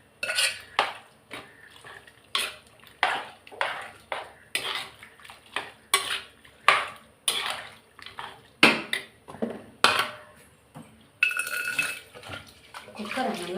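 Cooked meat is added to a pot of egg gravy and stirred, with repeated sharp metal clinks and scrapes of a spoon against the pot in an uneven rhythm, close and fairly loud.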